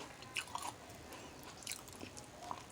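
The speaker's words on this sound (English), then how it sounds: "The great thing about pork rinds is that it has that crunch." Pork rinds eaten with guacamole, giving crisp, close crunching bites in a few short bursts over a quiet room background with no talking.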